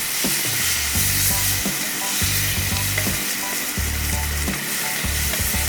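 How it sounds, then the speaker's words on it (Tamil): Onions with rock salt sizzle and crackle steadily in a hot pan, with repeated scraping stirs of a utensil against the metal and no talking. "இப்போ வெங்காயம் நல்லா ஃப்ரை ஆகணும்."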